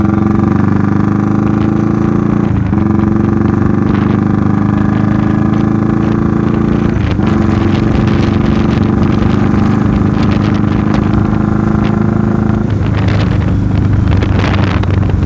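A motorcycle is ridden at high speed while a phone mounted on the helmet records, giving a loud, steady roar of wind buffeting and engine drone throughout with no talking.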